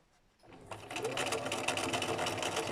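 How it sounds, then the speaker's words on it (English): A sewing machine stitches onto Anaglypta textured wallpaper, starting after a brief quiet moment and then running in a steady, fast, close whirring rattle. "at the moment I'm just stitching on to keep it in place before I use the embroidery"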